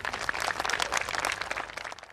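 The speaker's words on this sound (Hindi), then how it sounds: "उसके लिए जोरदार ताली" Seminar audience clapping for Vilas Thorat at a Netsurf business seminar hosted by Natubhai Chauhan, a dense, steady wash of many hands that fades slightly at the end, heard without talk.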